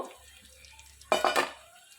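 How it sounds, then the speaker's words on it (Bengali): A lid comes off a cooking pan of potatoes being boiled and fried for a puti fish tok, giving one short, sharp metallic clatter and scrape after a quiet moment, then fading back to soft background. "এবার ঢাকাটা আমি খুলবো"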